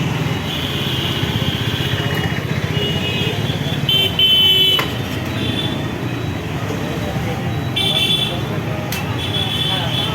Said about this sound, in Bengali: ইতিমধ্যে বন বিভাগের গাড়ি চলে আসছে